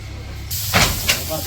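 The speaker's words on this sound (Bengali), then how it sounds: "এখন বড় মাছটিও ভাজবো।" A big fish drops into hot oil in a village kitchen, a sudden loud hiss bursting up after brief quiet, then a sustained crackling sizzle with a second surge, close by.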